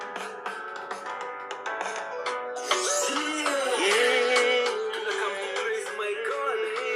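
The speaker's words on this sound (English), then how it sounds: "So that's the sound quality you get on the S22 Plus." Playback through the stereo speakers of a Samsung S22 Plus phone, busy tonal music-like sound with shifting pitches and sharp accents, growing fuller midway and continuing at moderate level.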